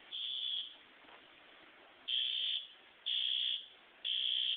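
A fire alarm under bench test on low voltage gives four shrill electronic beeps, each about half a second long, in a slightly uneven rhythm against a faint background hum.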